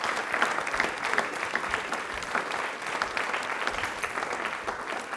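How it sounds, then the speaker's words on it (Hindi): Audience applause at a televised Hindi quiz programme, a steady, moderately faint ripple of many hands clapping together, dense and continuous with no voices over it. "प्लीज़ एक बार तालियां जोरदार वाली होनी चाहिए।"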